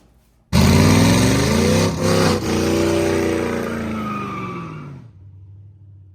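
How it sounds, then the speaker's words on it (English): A 1998 F-body car with a junkyard 5.3 LS V8 and 4L80 transmission roars loudly through a burnout, revving hard for about four seconds with a brief dip before the sound cuts off. "we're going to go do some burnouts"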